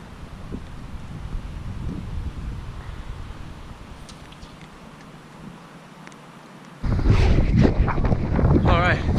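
Wind buffets a fishing boat on a cold, blustery day, a continuous low rumble against the microphone with water sounds, turning louder and harsher near the end with a voice briefly audible.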